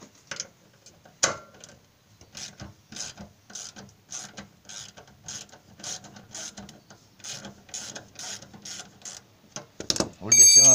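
A wrench loosening 10 mm bolts on a Motobécane AV89 moped gives a rapid series of close, sharp ratcheting clicks in bursts, with a brief louder clank near the end.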